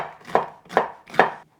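A kitchen knife cuts through halved bell peppers on a cutting board in three crisp, evenly spaced chops, close and clear with no talk.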